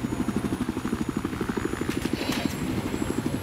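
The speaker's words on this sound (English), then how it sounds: "West of your current location, there's enemy helicopters" An enemy helicopter in the video game Battlefield 4, on the Zavod map, thumps nearby with fast, even rotor pulses and a continuous engine whine throughout.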